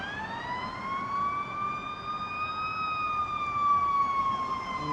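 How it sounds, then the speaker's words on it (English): An emergency vehicle siren wails steadily on a busy Sunset Strip street in West Hollywood at night, its rising and falling tone holding loud and clear over traffic rumble for the whole stretch. "We're getting our first, hopefully only siren of the night."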